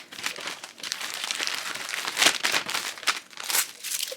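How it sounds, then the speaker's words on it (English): Repeated crinkly ripping of sticker backing, a series of short tearing bursts close to the microphone, with no voices. "The ripping sounds of the stickers are always so satisfying"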